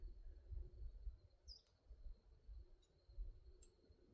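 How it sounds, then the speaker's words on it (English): Crickets chirping steadily in a quiet, overcast countryside setting, faint and continuous, with a few brief high bird calls from a distance over low rumbling background noise. "Other than some crickets and some bird over there"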